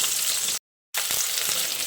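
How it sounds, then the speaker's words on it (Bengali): Rohu fish pieces fry crisply in hot oil, a steady close sizzle that cuts out abruptly for a moment before resuming just as loud. "আজকে আমি মাছটাকে একটু কড়া করে ভেজে নেব।"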